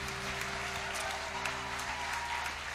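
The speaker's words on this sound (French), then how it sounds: "Est-ce qu'on peut encore les applaudir bien fort" An audience at a Christmas show applauds the performers with continuous, even clapping, somewhat distant and soft, over a low steady hum.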